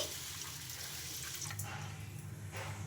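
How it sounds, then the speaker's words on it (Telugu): Faint, steady pour of clean water splashing onto washed rice in a vessel, with a few brief louder gushes near the end. "మంచి వాటర్ అయితే వేసుకోవాలి"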